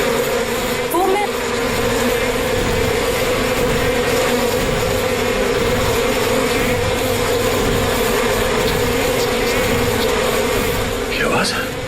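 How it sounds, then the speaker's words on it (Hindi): A swarm of disturbed honeybees buzzing continuously, a dense steady drone that stays loud and close the whole time, with brief faint voices now and then. "किसी ने मधुमक्खी को छेड़ दिया क्या?"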